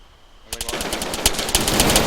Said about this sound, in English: I wonder why you just shot one burst